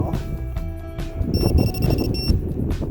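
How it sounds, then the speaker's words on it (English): Clear high electronic beeps from a metal detector in a yard repeat in a quick series over low rumbling background noise, bright and close. "It's beeping. There's nothing here. Why are you beeping?"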